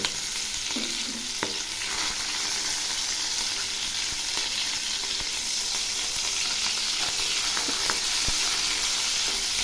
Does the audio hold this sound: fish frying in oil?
yes